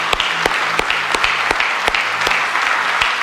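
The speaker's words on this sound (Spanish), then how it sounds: "Le damos un fuerte aplauso al Señor." A church congregation claps in unison at a Spanish-language service, a loud steady rhythm of sharp hand claps, close and filling the room, with no talk over it.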